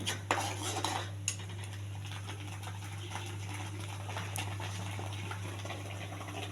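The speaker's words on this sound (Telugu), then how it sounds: "పేస్ట్ బాగా దగ్గరకు వచ్చే వరకు కలుపుకోవాలండి" A spoon stirs an onion and tomato paste in a pan, giving faint scattered clinks and soft scraping over a low steady hum, with a couple of sharper taps near the start.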